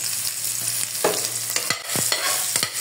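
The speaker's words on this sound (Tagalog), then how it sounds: "nagisa na natin yung ating bawang, sibuyas, luya" Garlic, onion and ginger sauté in a hot pan for ginataang kalabasa, a steady loud sizzle throughout with repeated scraping stirs of a utensil against the pan, heard up close and without speech.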